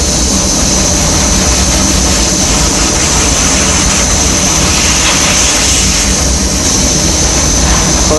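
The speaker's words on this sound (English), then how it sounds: "I use dry nitrogen to blow all the water droplets off of the surface." A constant loud hissing rush of dry nitrogen gas blown over a wet wafer, steady and close, with faint shifts in tone as the stream moves; no voices.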